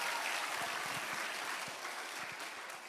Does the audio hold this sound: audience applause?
yes